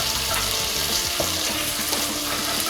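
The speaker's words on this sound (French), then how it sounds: "maintenant je vais plonger les tomates dans l'eau bouillante pour en fait pouvoir les monder et enlever la peau facilement" Tomatoes dropped into a pot of boiling water for peeling in a home kitchen, a close, continuous bubbling and hissing roil with small splashy pops, heard alone without voices.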